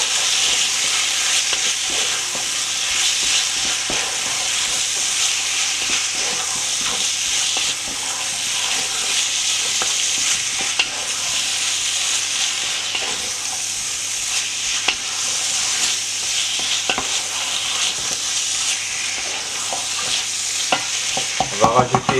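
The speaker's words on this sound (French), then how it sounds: "Et on va bien mélanger le tout." Banana flower and sausage curry is stirred in a frying pan over steady, loud sizzling, with scraping spoon strokes that continue for over twenty seconds before a few sharper clatters at the end.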